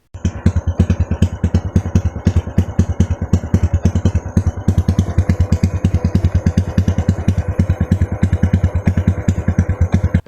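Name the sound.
small motorcycle engine running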